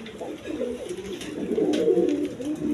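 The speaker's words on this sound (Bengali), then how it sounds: "দর্শকবৃন্দ এখানে এক পেয়ার বোম্বাই কবুতর আছে, ইন্ডিয়ান বোম্বাই কবুতর" Indian Bombay pigeons coo in soft, rolling, throaty murmurs that run steadily and close by, over light background noise.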